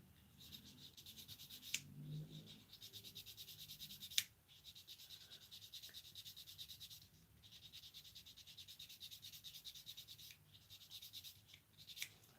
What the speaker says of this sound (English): just going to sand this down just a tad bit more just to get it right